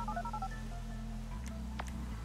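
A series of quick phone keypad tones in GTA 5, short beeps at a brisk even rhythm, faint and close over a steady low background hum.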